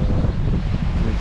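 Wind blows steadily over the sea aboard a sailboat on an ocean crossing near Gibraltar, a continuous loud, low, buffeting rush battering the microphone, with the wash of waves underneath.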